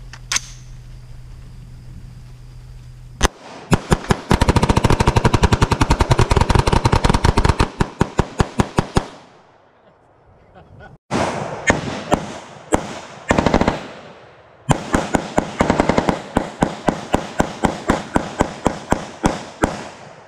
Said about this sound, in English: Let's shoot that guy in half.